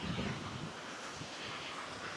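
Strong wind gusting across a mountain trail on the Appalachian Trail near McAfee Knob, a loud continuous roar buffeting the microphone with no voices.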